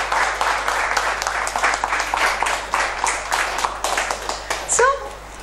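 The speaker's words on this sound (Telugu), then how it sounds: "కొట్టండి చప్పట్లు, అందరికి కొట్టాలి." A seated class audience at a Telugu inner-child workshop breaks into sustained clapping that runs for several seconds, with a voice speaking over it and a short squeal near the end.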